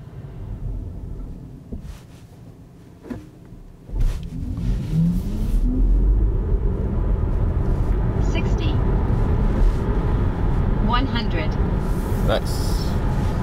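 A VW ID.3 GTX electric car in sport mode accelerates from inside the cabin, its rolling rumble and road noise rising sharply and then holding loud and steady, with a faint electric whine and occasional bumps.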